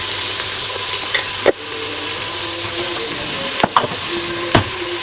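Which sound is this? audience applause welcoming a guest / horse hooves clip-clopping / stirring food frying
stirring food frying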